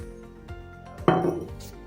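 A cup of icing sugar and two cups of all-purpose flour are stirred together in a bowl for 3-ingredient cookies. A utensil knocks and scrapes against the bowl several times, and one sharp clatter rings out near the middle.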